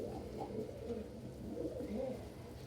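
Pet pigeons or doves coo softly indoors in a series of low, repeated, throaty calls that rise and fall, fairly quiet and close, with no talking.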